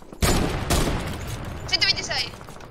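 Two sharp, loud Barrett sniper rifle shots in Fortnite in quick succession with booming echoes, followed by fainter electronic game effects.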